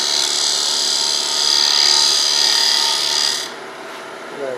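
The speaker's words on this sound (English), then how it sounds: "now I'm finishing with just a really shear scrape" A turning tool shear-scraping an ash bowl on a wood lathe gives a steady, close, hissing rasp that holds for about three and a half seconds, then drops to a softer whirring hum.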